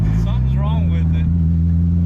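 A Honda S2000 roadster with its top down and a fault that caps it below 3,000 RPM idles with a steady, low engine drone, while a person talks over it.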